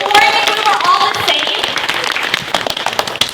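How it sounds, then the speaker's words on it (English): Audience clapping at a school kindness tour assembly, a burst of applause from a crowd that fades into scattered claps, with a voice talking over the start. "Let's give her a round of applause, you guys."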